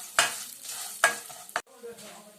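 Vermicelli with chopped almonds and cashews roasting in a pan, with a soft steady sizzle broken by three sharp scraping stirs, fairly close and with no one speaking.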